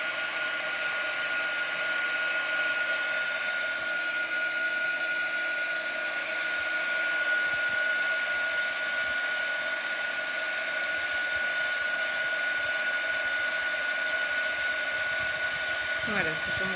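A heat tool warming embossing powder, its loud, steady fan-driven blowing hum running continuously, close and unbroken.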